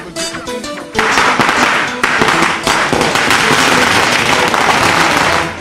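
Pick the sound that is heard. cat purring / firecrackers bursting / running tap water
firecrackers bursting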